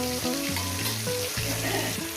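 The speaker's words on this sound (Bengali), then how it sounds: "এই মাছগুলো আমার ভাজা হয়ে গেছে" Pieces of rohu fish fry steadily in hot oil in a pan, a dense, even sizzle that holds at a constant level for a couple of seconds, with a low tonal hum running underneath.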